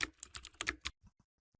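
Quick bursts of keystrokes on a computer keyboard while a phone number is entered, a rapid cluster of close clicks followed by a few sparse, softer taps before going quiet.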